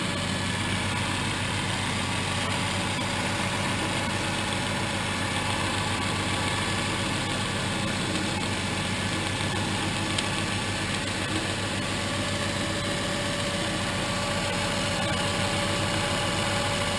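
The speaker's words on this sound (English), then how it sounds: "The flat belt drive, which makes it a real nice, smooth running spindle." A South Bend CL187RB 10-inch by 32-inch tool room lathe runs with its flat belt drive and cam lock spindle, giving a steady, even mechanical hum and whir that holds unchanged throughout, with no one talking.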